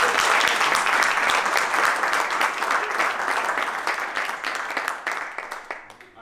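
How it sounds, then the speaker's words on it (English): Audience at a 2022 core banking summit panel discussion claps warmly, a full burst of applause that starts strong, gradually thins out and trails off into scattered claps. "I feel that deserves a round of applause."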